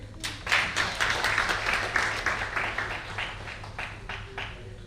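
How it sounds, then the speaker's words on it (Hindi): Audience applause at an Independence Day celebration gathering, a steady patter of many hands clapping for about five seconds at moderate distance, fading slightly toward the end. "तालियां भाई"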